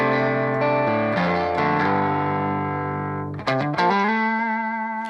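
A Fender Telecaster played through a BOSS GT-1000 modeller with added gain rings out in distorted chords with an effects shimmer, a strum, a short fresh attack, then a sustained fade, with no talking.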